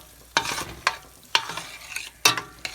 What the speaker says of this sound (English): And you just stir all that around.